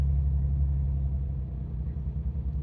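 A Suzuki Mehran engine running on petrol rumbles low and close, its idle uneven and faltering as the rough sputter wavers and sags toward the end; no talking.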